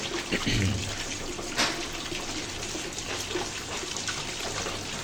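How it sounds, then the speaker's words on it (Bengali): Cooked rice washed by hand under running water makes a continuous splashing rush, with a couple of brief clatters near the start. "সুন্দর করে আমি একবারে জর্জরে করে ভাতগুলো ধুয়ে নিচ্ছি"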